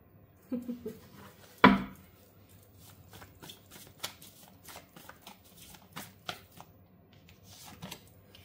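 Tarot cards drawn and handled from a deck during a reading, a sharp card snap near the start followed by light scattered shuffling and flicking sounds, close and quiet, with no talk.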